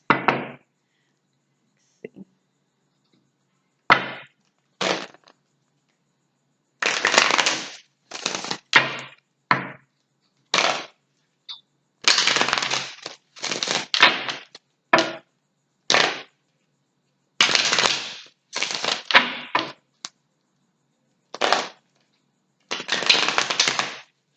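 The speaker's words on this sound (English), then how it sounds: "I'm going to shuffle the cards." Tarot cards being shuffled in a run of crisp riffling bursts, separated by brief pauses, close to the microphone, with no talking.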